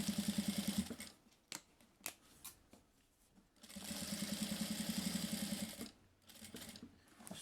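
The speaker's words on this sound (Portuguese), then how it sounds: "Costurinha de segurança toda a volta." Sewing machine running a safety seam around a passport wallet, in two bursts of rapid, even stitching with a short pause and handling noises between them, fairly close and unaccompanied by speech.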